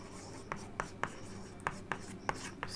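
Pen writing an example sentence in an English grammar lesson, with a soft continuous scratching and a series of sharper taps from the strokes, close and fairly faint with no speech.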